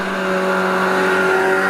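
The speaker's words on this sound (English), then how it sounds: "On the line now is the Riley Brooklyn, Stuart Sargent, and he's away." Vintage Riley Brooklyn sports car at a hill climb, its engine holding a steady, loud, sustained tone as it pulls away from the line, with no voices over it.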